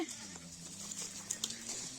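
Goats bleat faintly in an outdoor farm setting, short cries over a low steady drone, with a few sharper sounds near the end.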